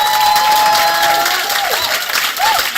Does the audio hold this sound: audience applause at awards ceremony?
yes